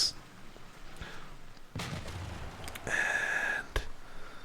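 A cannon shot from a field cannon in Civilization 6 goes off as a sharp boom, set among other short game effects, a whooshing swell and a bright chime, at moderate loudness.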